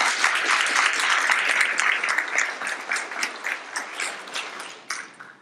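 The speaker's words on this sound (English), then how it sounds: "Let's give them a round of applause." Audience at an art museum talk applauding donors, dense steady clapping that thins into scattered claps toward the end.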